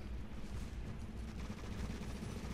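Gunfire in a video game crackles as a low, steady rumble of rapid shots, distant and fairly faint, running unbroken throughout.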